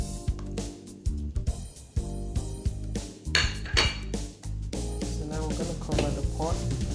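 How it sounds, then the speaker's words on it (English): A pot is covered with its lid while catfish pepper soup cooks. Metal clinks and clatters come in irregular bursts, close and fairly loud, scraping and settling against the rim, with brief quiet gaps between the knocks. "Cover the pot and let it cook until it's boiling"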